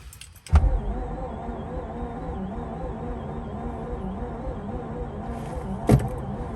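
A 2004 Mazda RX-8 rotary left unused for two years, its engine running with a steady buzzing idle between two sharp clunks at start and end, no voices.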